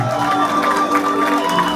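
An outdoor crowd at a concert event in Boundiali cheers and applauds, a steady loud wash of voices and clapping with tonal music or shouts running through it.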